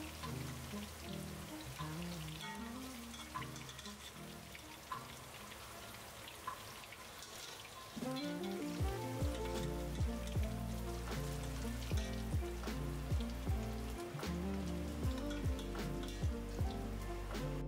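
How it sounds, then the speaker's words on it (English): Chicken drumsticks fry in a pot for Vietnamese chicken curry, giving a steady close sizzle with scattered pops and crackles. The sizzle grows louder partway through and carries on without any talking. "we'll fry our drumsticks next"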